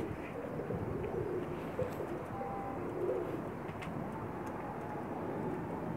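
Pakistani pigeons coo softly and repeatedly nearby, a low continuous murmur of calls under faint background noise, with no one speaking.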